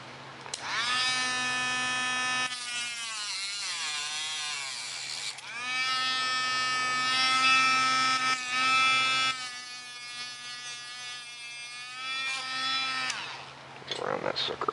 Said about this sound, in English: It's always best to cut carbon fiber rod with a Dremel.